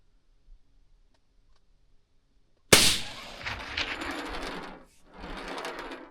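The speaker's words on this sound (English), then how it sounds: "There's a rock up there behind the target. It's about 230 yards, 250 yards. I'm gonna shoot it." A single loud rifle shot, fired with 190-grain Barnes bullets at a rock about 250 yards away on a hike, cracks after near silence, then rolls into a long echoing rumble with a second swell of reverberation.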